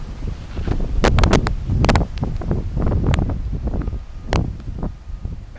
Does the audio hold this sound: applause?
no